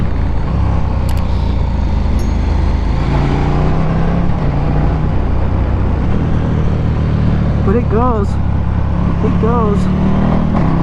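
KTM Superduke 1290R V4 motorcycle in full power mode, loud engine drone close by through the whole stretch, rising in pitch in short bursts near the end as it accelerates, with a rider briefly speaking.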